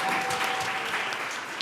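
Audience applause at a women in fintech summit: dense, steady clapping from a crowd, close and continuous throughout with no speech over it.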